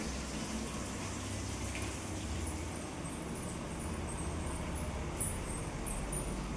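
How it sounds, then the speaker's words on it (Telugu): Water pours and gushes steadily and close, a continuous wash of liquid noise in a home kitchen while broken wheat upma is being made. "వాటరు"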